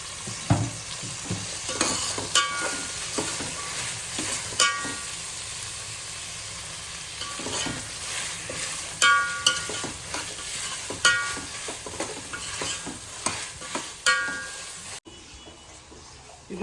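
Ghee rice masala fries in a pan with a continuous sizzle, while a utensil stirs and scrapes in repeated sharp knocks and clatters close by, with no talk.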